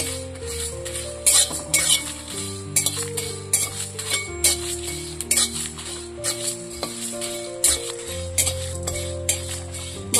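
Whole spices for Burmese-style mango pickle are stirred as they fry in a pan, a spoon scraping and clinking against the metal in irregular strokes over a faint sizzle, close and fairly loud, with no talking.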